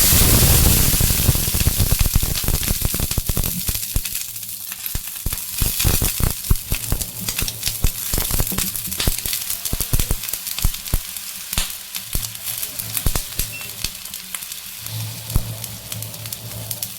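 Dosa batter fries in oil on a hot pan on the stove, giving a loud, steady sizzle dotted with sharp crackling pops throughout, with no talking.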